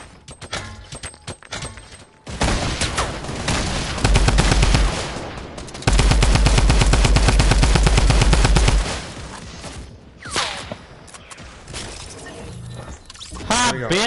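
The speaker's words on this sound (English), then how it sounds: "Shoot this bitch down." Sustained automatic gunfire in the video game Fortnite, with long loud rapid bursts that dominate the middle stretch, surrounded by lighter shots and game sounds while players talk.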